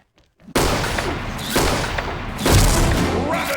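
A grenade goes off in a shooter video game, a sudden heavy boom followed by rolling blasts and rumbling bursts that stay loud for several seconds.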